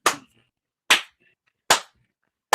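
Three sharp, loud hand claps spaced about a second apart, each a crisp isolated burst with quick decay and silence between.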